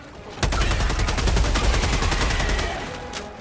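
Rapid automatic gunfire from a Helldivers 2 weapon, a steady burst of evenly spaced loud shots lasting about two seconds before tapering off, with no talking.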